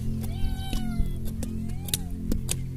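A boy imitates a cat's meow, making a few drawn-out, wavering cries with rising and falling pitch, close and fairly loud over faint background noise.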